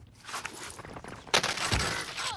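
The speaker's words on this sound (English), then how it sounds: "I'm getting sniped." Sniper rifle fire in a video game: two sharp, loud reports, one at the very start and a heavier one about a second later, each followed by a brief rolling tail.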